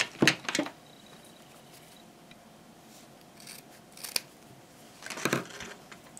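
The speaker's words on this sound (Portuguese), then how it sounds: "Vamos pegar essa tira, cortar no meio." Scissors snipping through a fabric strip, a few crisp close cuts at the start, then quieter handling and two more short bursts of snipping near the end.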